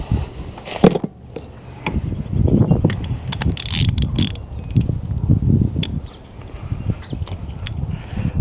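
Spark plugs being removed from a 1988 Evinrude 200hp V6 outboard: close metallic ratchet clicks, tool clinks and scraping handling noises come in irregular bursts, with a few sharp taps between.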